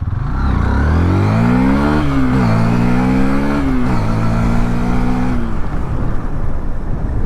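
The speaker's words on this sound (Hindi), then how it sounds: "अब फर्स्ट गियर पे थोड़ा सा पिकअप करके दिखाते हैं क्या बाइक का पिकअप लग रहा है" Hero Xtreme 160R 4V motorcycle pulling away in first gear, its engine note rising sharply in pitch as it revs hard, briefly dipping and climbing again before fading into a steady rushing whir.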